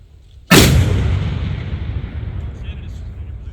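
A ceremonial rifle volley fired by an honor guard at a memorial service for Francis Marion: one sharp, loud blast that booms and echoes, then slowly fades over a quiet outdoor background.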